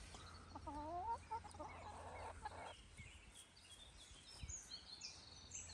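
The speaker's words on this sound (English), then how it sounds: "So there's all the chickens." Backyard chickens cluck and murmur nearby, with one drawn-out warbling call early and softer scattered clucks after, faint and without voices.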